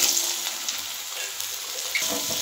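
Potatoes dropped into hot oil in a wok with a bay leaf and dried chilli, giving a steady bright hiss of sizzling frying that stays constant throughout, with no voices.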